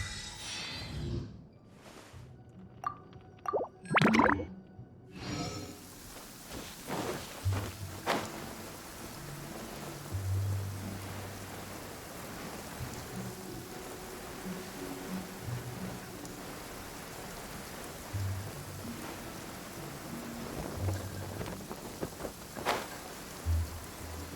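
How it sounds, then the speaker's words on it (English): Rain in Genshin Impact patters as a soft, steady hiss, with occasional footsteps, thumps and scattered game effects sounding over it. "I don't like the rain."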